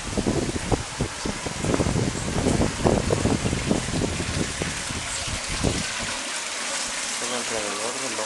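Water flowing at a natural spring at the Curimeo station, a steady splashing gush with rustling texture that thins toward the end, where a voice is heard speaking.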